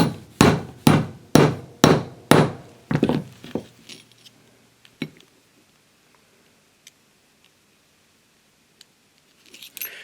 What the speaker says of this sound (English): just stick the tube in there and whack the thing flat